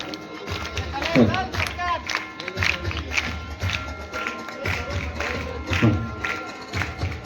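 Schoolchildren at a school sports and arts festival clap and cheer in scattered bursts, with many voices shouting and calling out over the applause.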